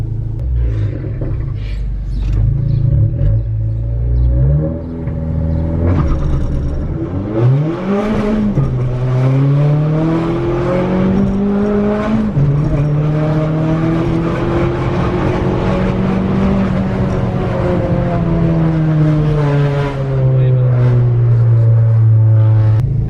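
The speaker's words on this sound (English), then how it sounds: "the idle is normal, but the car is like vibrating like it's not normal, like it's misfiring" A 2018 Honda Accord engine fitted with stiff Hasport motor mounts runs loud and steady, its droning tone rising and falling as the revs sweep up and down, with no voices over it.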